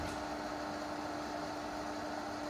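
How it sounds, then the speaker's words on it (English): A Vitamix blender grinds oats into flour with a steady, unbroken whirring roar that holds at an even level throughout and has no voices over it. "Pop them into your Vitamix or blender."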